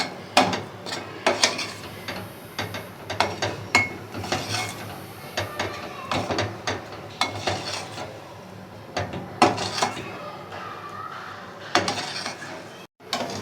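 Gram flour (besan) roasting in a pan for besan barfi, stirred by hand. A utensil scrapes and knocks against the pan in close, irregular strokes and clinks that carry on throughout, with no voices.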